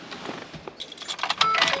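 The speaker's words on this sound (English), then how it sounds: "I just gotta find my keys." A bunch of keys jangles close by in a brief burst of bright metallic clinks and rattles that grow busier toward the end.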